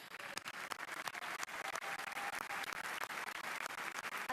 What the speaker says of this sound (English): We can applaud them, please.